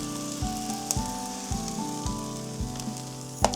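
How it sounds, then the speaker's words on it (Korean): Bacon and vegetable fried rice stir-fries with oyster sauce in a pan, a continuous sizzle running beneath a repeating, stepped tonal sound, with a sharp clink near the end. "한 큰술, 두 큰술 계속 볶아줍니다."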